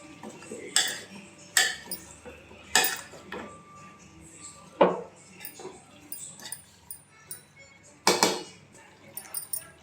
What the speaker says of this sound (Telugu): ముక్కలన్నీ వేసాక ఒకసారి మిక్స్ చేసుకుందామండి.